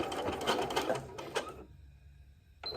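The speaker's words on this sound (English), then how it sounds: "I'm going to back stitch." A sewing machine back stitching at the end of a shirring seam, a quick rapid stitching run lasting about a second and a half, then stopping, with a brief restart at the end.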